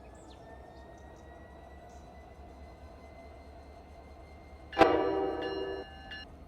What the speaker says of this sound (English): Boom, and now the locomotive will start running.